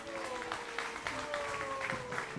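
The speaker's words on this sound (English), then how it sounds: "Please give them a huger round of applause." Faint audience applause at a temple's ninth anniversary celebration, steady scattered clapping from a distance with murmured voices and a faint tonal hum underneath.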